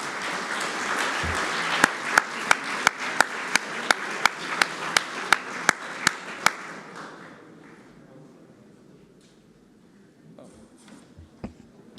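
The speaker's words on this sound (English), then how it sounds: "So please, a big round of applause" A crowd applauds at a closing ceremony, with one person's loud, rhythmic claps standing out near the front before the clapping fades to quiet around seven seconds, followed by a few stray sounds.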